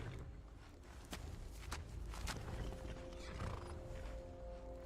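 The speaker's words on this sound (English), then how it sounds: "there's a lot of horses" Several horses whinny and neigh amid clip-clopping hooves and footsteps in a Skyrim video game world, with a low steady rumble underneath; no one speaks.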